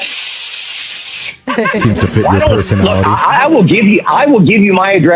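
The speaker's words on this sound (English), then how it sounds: "Did you hear the doorbell sound that I just played for you?" A hissing sound played over a phone as a doorbell on a prank call, a bright steady hiss for about a second and a half before a voice starts talking and carries on to the end.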